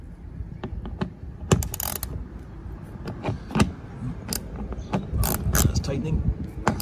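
A ratchet with a 10 mm socket tightens a mud flap bolt on a Tesla Model 3/Y, giving close, irregular clicking bursts and rattles with faint handling noise.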